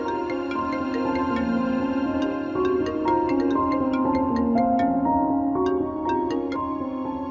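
A melodic electronic ringtone plays a repeating tune of bright tones, steady and fairly loud, with no talking.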